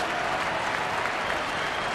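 Baseball stadium crowd cheering and clapping in a steady, dense roar during a 2011 Diamondbacks at Brewers game, heard alone with no talk over it.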